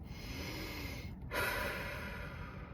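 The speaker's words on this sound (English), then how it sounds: "So you do that, do your deep breaths." A single deep breath is drawn in and let out close to the microphone, a soft airy inhale followed by a louder sighing exhale against quiet background hiss.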